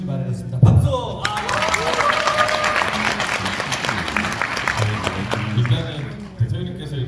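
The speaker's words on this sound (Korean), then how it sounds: "박수!" Audience at a history talk concert bursts into applause, a thick, sustained wave of clapping that swells after an opening thump, holds steady, then tapers off toward the end.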